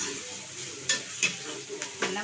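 Onion and carrots sautéing in a pan while making a carrot dish: a steady soft sizzle with a few sharper scraping stirs of a spoon against the pan, close by, with no talking.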